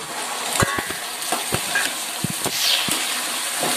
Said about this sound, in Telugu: ఉల్లిపాయలు అయితే బాగా ఫ్రై అవుతున్నాయి కదా, ఇప్పుడు ఇందులోకి పనసెక్కలు అయితే వేసేసుకుందాం